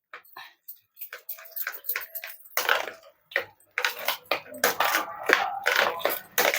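Metal lids clinking onto steel cooking pots in a home kitchen, a series of sharp close clatters and scrapes with pauses between, some faint rustling alongside.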